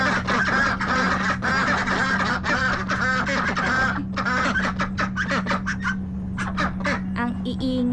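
Free-range ducks quacking loudly and continuously nearby, a noisy overlapping chorus of honks and quacks over a low steady hum.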